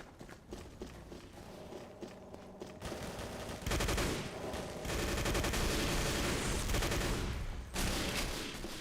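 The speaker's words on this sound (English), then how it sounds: "Those grenades got some reach there" Video game combat with rapid bursts of gunfire and grenade explosions, dense and loud, with clattering impacts layered throughout and no talking.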